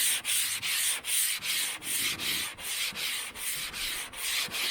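Hand sanding of primer on the body of a 1978 V8 Chevrolet Nova hot rod with 180 grit sandpaper: close, even back-and-forth strokes in a steady rhythm, each one a brief hissing rasp separated by short gaps.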